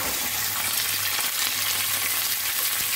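A crushed paste of curry leaves, garlic, ginger and green chili frying in a pan for tomato rasam, giving a dense, steady sizzle with faint stirring, close and continuous without any talk.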